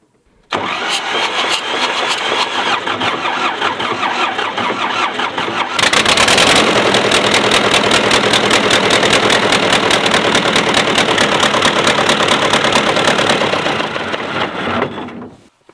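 A tractor engine cranks and catches, then runs loud and close with a rapid, rough idle chugging steadily until it cuts off at the end.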